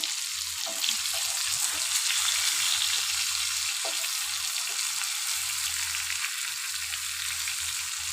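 Tilapia pieces fry in oil in a small wok, a steady crackling sizzle that continues throughout, close and moderately loud, with occasional soft bumps.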